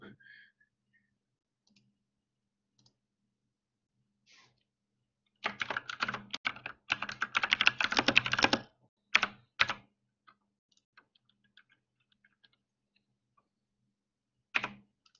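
Typing on a computer keyboard, a quiet burst of rapid clicky keystrokes lasting a few seconds, then a few scattered isolated key taps, with near silence between them.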